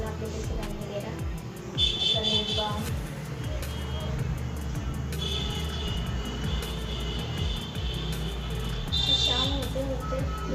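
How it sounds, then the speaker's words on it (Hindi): Evening road traffic rumbles steadily at a distance, with several vehicles passing, occasional horn-like tones and someone speaking quietly over the noise. "शाम होते होते इतनी ज़्यादा गाड़ियों की आवाज़ आती है"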